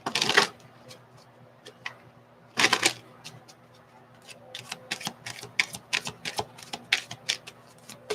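Tarot cards being shuffled and handled in a quiet room: two loud riffling bursts near the start, then a quick series of short crisp flicks and taps as the cards are worked.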